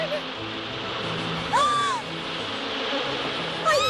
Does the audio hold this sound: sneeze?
no